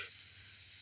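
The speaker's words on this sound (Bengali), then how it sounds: "শুধু ঝিঝি পোকার ডাক।" Crickets chirp at night in a dark sal forest on a hill, a steady, high, continuous trill that is faint and even throughout.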